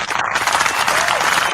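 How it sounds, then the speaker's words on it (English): A short burst of recorded applause plays during a live podcast, a dense, loud clapping sound lasting about a second and a half. "And hold on, I gotta give him applause."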